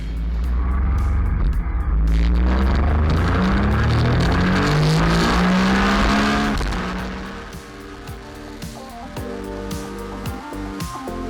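A vehicle run flat out on the Isle of Man Mountain Course during the Tourist Trophy: a loud, close engine roar climbing in pitch through hard acceleration with wind rush, then easing to a lower, steadier drone.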